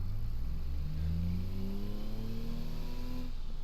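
A police car engine fitted with a straight-through muffler revs up steadily in the BeamNG driving game, a low droning hum whose pitch climbs smoothly over several seconds and drops briefly once, with no talk over it.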